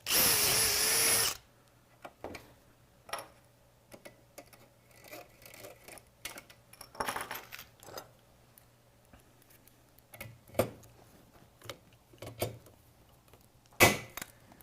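A loud power drill whirs for about a second, drilling rivet holes in a robot chassis, followed by quiet scattered clicks and taps of handling metal nearby.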